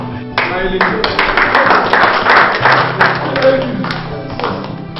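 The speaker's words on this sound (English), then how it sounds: "Clap." A crowd applauds at a palace ceremony as a crown prince is called forward, dense steady clapping with scattered sharp claps and thuds, with voices mixed in throughout.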